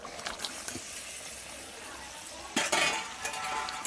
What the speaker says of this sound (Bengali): এবার চিকেনটা যে ম্যারিনেট করা ছিল ওটা ঢেলে দেবো